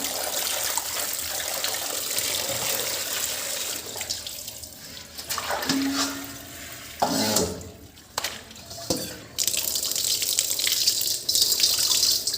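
Catfish are rinsed with plain water in a basket, with running water splashing and trickling steadily, a few sloshing breaks and handling noises in between, close by.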